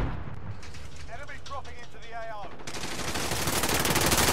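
Enemy gunfire in a shooter video game, a steady rumble that swells into loud continuous automatic fire, with a short stretch of speech-like voice sounds partway through.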